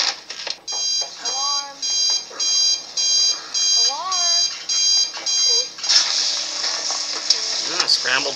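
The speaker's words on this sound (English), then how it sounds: "Alarm." An electronic alarm clock beeps in a fast repeating pattern of regular pulses, loud and close, with talk and other sounds mixed in between and a noisier stretch toward the end.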